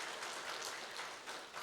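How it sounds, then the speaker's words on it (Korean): A church congregation applauds together during a special Holy Week early-morning prayer service, a steady, diffuse wash of many hands clapping at once, moderately quiet and continuous with no talking over it. "감사의 박수 한번 올리겠습니다."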